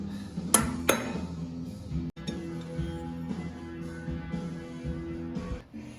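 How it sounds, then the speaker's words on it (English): Metal clinks and clanks as oil lines are unbolted from a 1984 Honda CBX750 motorcycle engine, a few sharp taps early, then a steady run of close tool-on-metal rattling. "Unbolting the oil lines here."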